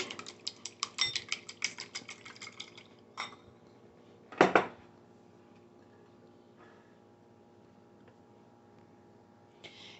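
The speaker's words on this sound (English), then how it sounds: "you want to just whisk your eggs until they're nice and fluffy." Eggs seasoned with a dash of salt and pepper are whisked in a bowl: a quick run of close, rhythmic metal ticks against the bowl, then a louder clatter and quieter scraping.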